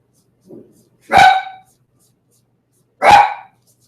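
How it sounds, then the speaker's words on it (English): A pet dog barks twice indoors, close and loud, two sharp woofs about two seconds apart after a faint soft whine. "my dog is going crazy here"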